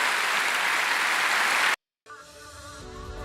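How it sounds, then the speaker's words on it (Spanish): Church congregation applauding during a Spanish-language sermon: a dense, steady wash of clapping for nearly two seconds, then a brief silence, followed by a quieter passage with sustained tones that sounds more like music than clapping. "Dale un aplauso a Dios si entendió todo eso."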